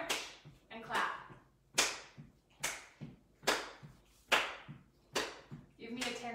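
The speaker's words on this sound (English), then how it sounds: "March and clap." Someone doing a seated dance exercise claps while marching in place. The single claps are sharp and close, spaced about every three-quarters of a second, with a bit of voice between them.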